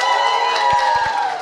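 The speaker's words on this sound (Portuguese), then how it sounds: "E a galera grita!" A live audience cheers and shouts at the close of a recorded podcast episode, a steady, dense wash of crowd noise with a few soft thumps underneath.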